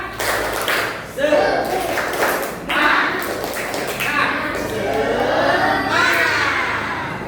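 Classroom children doing the rhythmic 'tepuk semangat' clapping chant, patterned group claps and thumps mixed with loud chanting voices and shouts, close and busy.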